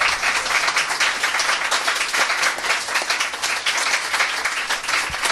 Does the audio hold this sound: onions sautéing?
no